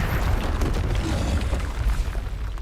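Confringo fire spell explosions in the video game Hogwarts Legacy, a dense, loud, continuous rumble of booming blasts and crackling debris that fills the whole stretch with no pauses.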